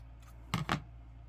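Scissors snip crochet yarn with two quick, close, crisp cuts in a row over a faint background hum.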